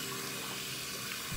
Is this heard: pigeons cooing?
no